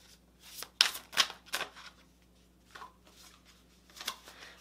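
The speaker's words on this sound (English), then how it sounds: "these cards are not shuffling very good" Tarot cards shuffled by hand in a few quick, crisp riffling bursts, the loudest early on, then softer scattered shuffles in an otherwise quiet room.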